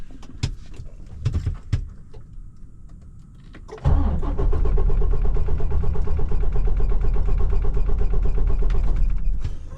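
A rented truck's engine cranks after a few scattered knocks, then catches and runs with a loud, steady, rough idle for several seconds before dropping off at the end.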